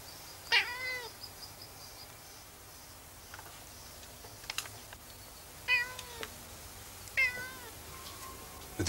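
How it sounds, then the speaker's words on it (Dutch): A house cat meows indoors, three or four distinct, fairly close cries spaced several seconds apart over quiet background. "Wat doet die kat nou?"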